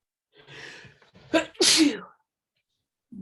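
One loud, close sneeze, with a quick breathy intake leading into a sharp burst, followed by silence.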